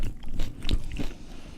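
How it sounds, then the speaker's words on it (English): Close, crisp crunching bites into a raw habanero pepper during a pepper-eating challenge, a few separate wet crunches spread over a moment with no talking. "ASMR pepper chewing."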